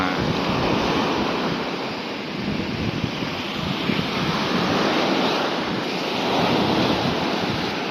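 Sea waves at a beach in Rayong, Thailand, wash in as a loud, continuous surf roar with gusty wind buffeting the microphone and gentle swells in level, with no voices.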